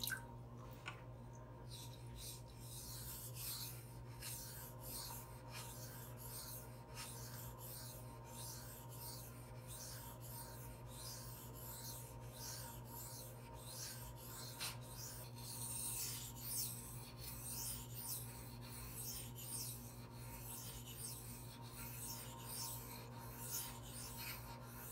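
A knife is drawn back and forth across a 1.2k-grit silicon carbide whetstone, making quiet, rhythmic rasping strokes in a long, steady series against a low background hum.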